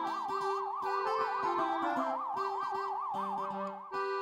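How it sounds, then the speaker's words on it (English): A police car or fire truck siren wails steadily and loud, its two-tone pitch sweeping up and down in a rapid regular warble throughout, with faint traffic rumble beneath and no voices. "have you heard a police car or a fire truck whiz by with their siren on?"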